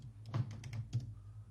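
Quick bursts of keystrokes on a computer keyboard as a short list name is typed, a handful of soft, close clicks spread over about a second and a half with no voices.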